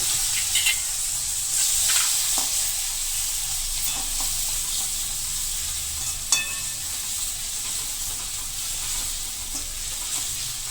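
Hot chili paste sizzling with spices in a pan of potato bhaji, a steady loud frying hiss with occasional crackles and spatters, close and continuous.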